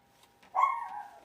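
A dog gives one sharp, near bark that trails into a short whining tail, heard alone in a quiet indoor room during wreath-making.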